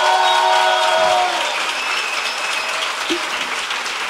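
Audience applause at a live Greek concert, a big crowd clapping and cheering in a loud sustained roar, with a voice singing or calling out over the opening second.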